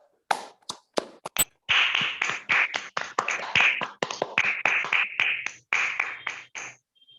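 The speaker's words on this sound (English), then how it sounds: "let us welcome all our guests with a good round of applause" Sparse, uneven handclaps from a small Toastmasters meeting audience, with individual sharp claps starting the run and then a ragged burst of close clapping that trails off.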